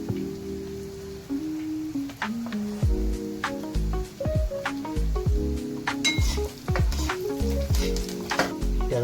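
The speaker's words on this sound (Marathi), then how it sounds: "आता आपण त्यात लसूणच्या पाकळ्या टाकूया" Garlic cloves drop into a pan of onions already browned in oil, bursting into loud crackling sizzles with scattered pops and stirring scrapes, close and continuous.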